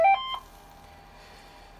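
Short keypad tones as a programming code is entered on an Avire Memcom phone, a couple of quick beeps at the start and one more at the end with quiet room hiss between, close and fairly loud.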